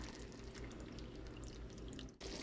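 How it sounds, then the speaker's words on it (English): Water is poured onto chicken stock powder during cooking, a steady splashing, trickling rush that is close and moderately loud, with a brief dip just before the end. "I'm gonna add water to it."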